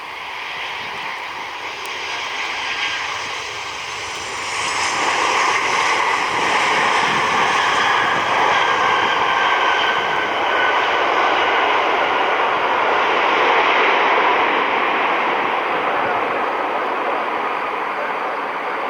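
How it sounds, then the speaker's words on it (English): An Icelandair jet airliner in National Geographic livery arrives, its engines a loud sustained roar that grows stronger midway and holds with a whining edge, close and continuous. "Icelandair 1346, the National Geographic livery inbound from Dulles"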